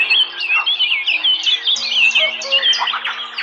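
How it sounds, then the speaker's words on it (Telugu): A koel sings in spring, moving from branch to branch, with other birds around it. Loud, close, continuous chirps and whistled calls rise and fall in quick repeating phrases, with no voices. "కుహూరవాల కోయిల ఆగి మంగళనాదాలను ఆలపిస్తూ కొమ్మ మీద నుంచి కొమ్మ మీదకు వాలుతూ వెళుతోంది"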